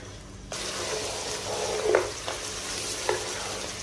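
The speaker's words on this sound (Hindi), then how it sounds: "10 मिनट के लिए अच्छी तरह इसकी बुनाई करेंगे हाई फ्लेम के ऊपर।" Mutton is stir-fried in a pot on high flame, giving a steady close sizzle broken by a few sharp scrapes and knocks of the stirring spoon.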